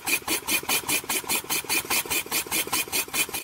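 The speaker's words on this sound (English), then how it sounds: "Our standard engine is not running evenly and the new lobe will require adjustment." A small engine converted to steam runs with a rapid, slightly uneven pulsing beat, about five firing bursts per second, close and steady with no talk.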